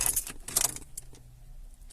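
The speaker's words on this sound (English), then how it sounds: "See, vehicle won't start. Won't crank." Keys jangle and click in the ignition of a retro Mercedes that refuses to crank because an immobiliser is active, metallic rattling up close followed by near silence with no starter or engine sound.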